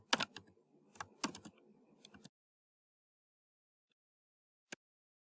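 Typing on a computer keyboard comes in quick clustered bursts of key clicks for about two seconds, then silence broken by one isolated keystroke.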